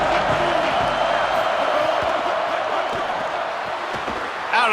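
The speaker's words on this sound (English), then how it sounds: "This crowd ready to make its presence known." Stadium crowd noise from a college football video game, a loud, continuous roar of massed voices filling the whole stretch with steady intensity.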